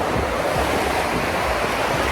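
Sea waves wash onto a beach at Nesebar, Bulgaria, a steady loud surf roar blended with wind across the microphone and no voices.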